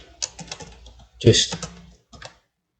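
Someone types Python code on a computer keyboard: short bursts of light key clicks with a louder cluster of presses midway, then a final few taps before stopping.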